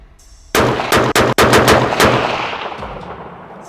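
Rifle shots fired during accuracy testing with a control ammunition load: several sharp, loud reports in quick succession, spaced irregularly, each with a ringing decay outdoors, no talking.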